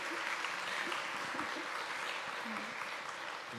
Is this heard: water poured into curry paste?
no